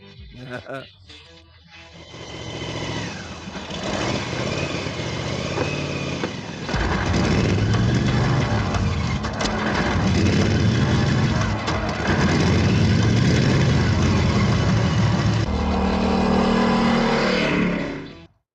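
A custom Hot Wheels-inspired car engine idles and then revs hard, loud and sustained for most of the stretch, with rising and falling surges.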